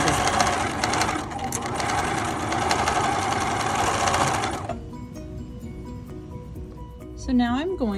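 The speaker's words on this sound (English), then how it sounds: "So now I'm going to use the serger" A serger stitches a fabric scrunchie in a fast, steady whir that runs for several seconds, then stops and leaves quieter room sound with a brief voice near the end.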